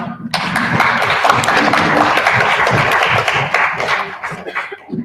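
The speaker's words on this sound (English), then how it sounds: "All of our speakers here tonight with a big round of applause" An audience at a formal debate gives its speakers a big round of applause, many hands clapping loudly and densely for several seconds before thinning out toward the end.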